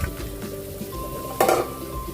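Bitter gourd (ampalaya) hits a hot pan of sautéed ground pork and sotanghon, setting off a loud, close burst of sizzling with a brief clatter of utensil against pan, over a steady frying hiss.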